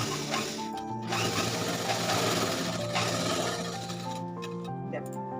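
A sewing machine stitches along a worn piece of cloth, whirring steadily and close for a few seconds while someone talks over it.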